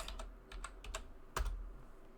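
Keys clack on a computer keyboard during a Blender 3D tutorial, a sparse run of crisp separate taps with one heavier key strike near the end, close and fairly quiet.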